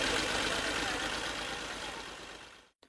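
A tractor engine runs steadily while compacting six-inch layers of silage fodder, a dense continuous rumble that holds for a few seconds and then cuts out abruptly, with no talk.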